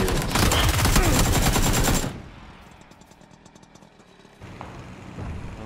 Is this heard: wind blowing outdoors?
no